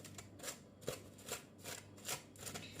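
Small bits of food cut by hand with a knife for a chickpea chuna savoury dish, giving quiet, crisp cutting strokes in a steady rhythm, close up and without talk.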